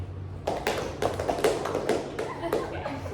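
A group claps hands in an ice-breaking game during a group counseling session, sending out about seven sharp claps in short uneven clusters over a low background hum, with voices nearby.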